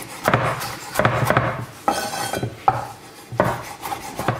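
Metallic clattering and scraping of a pan shifting on a warped hob plate, with irregular rattles and clanks close by.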